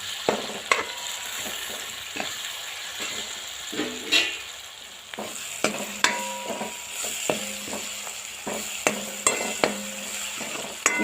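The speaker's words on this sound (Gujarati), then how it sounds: "તમે જોઈ શકો છો મસાલા સરસ શેકાઈ ગયા છે આપણા" Spices roast in hot oil for a dal tadka tempering, giving a continuous close sizzle broken by repeated sharp clinks and scrapes of a spoon stirring against the pan.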